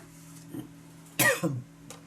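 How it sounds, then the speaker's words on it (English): A single sharp cough close by, a short burst with a smaller follow-up, over a faint steady hum. "I only cough when I'm talking to you"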